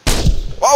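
A single loud, close gunshot fired in the VR shooter game Pavlov VR, a sharp blast with a short booming tail, heard alone with no talking.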